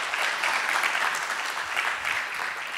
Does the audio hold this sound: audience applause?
yes